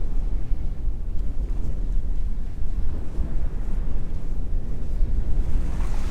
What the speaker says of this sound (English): Definitely a strong, strong wind this morning